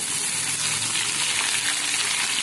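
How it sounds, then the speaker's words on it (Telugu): Curry leaves and green chillies sizzling in hot frying oil for lemon pulihora, a dense, even crackle heard up close and continuing without pause, with nobody speaking. "కరివేపాకు అయితే బాగా వేగిపోయింది"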